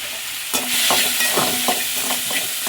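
Coconut, tomato and curry leaves sauté in a hot pan for sambar, giving a loud, close, continuous sizzle with rhythmic scraping strokes of a stirring spoon.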